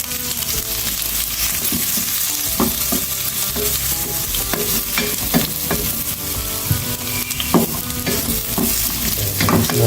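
Ginger and onion sizzle continuously in a pan while a utensil stirs and scrapes through them, sending irregular clacks and scrapes over the steady frying hiss, close and fairly loud.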